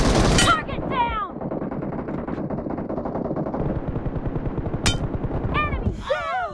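Gunfire in the mobile battle royale game PUBG Mobile (BGMI) comes in loud, rapid automatic bursts almost continuously, broken by a few sharp chirping effects and ending in a quick flurry of pings.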